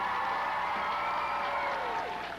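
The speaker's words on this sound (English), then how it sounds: "Ladies and gentlemen, give a big round of applause." A game-show studio audience applauds for a couple of seconds, a soft, fairly distant wash of clapping with a faint cheer that tapers off at the end.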